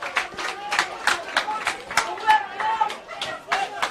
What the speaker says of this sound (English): Joel Stone getting his biggest applause for the day from the crowd for his tracking back